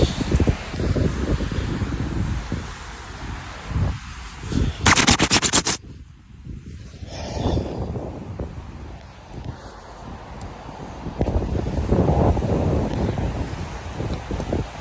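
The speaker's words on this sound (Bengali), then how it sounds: "তার মধ্যে বাতাস" Strong wind gusting through a Paris street during heavy snowfall, a loud, continuous buffeting roar close to the microphone that briefly drops near the middle, then swells again.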